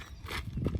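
A horse at a zoo in Australia makes soft, close shuffling and hoof sounds in a brief, quiet moment, with no talking.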